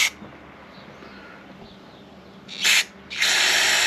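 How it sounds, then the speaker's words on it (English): Aerosol cleaner sprayed into the holes of a generator carburetor, heard as two bursts of loud hissing, a short spray followed by a longer steady one, close to the source with no talk. "Now see how I'm spraying in here and it's coming out there?"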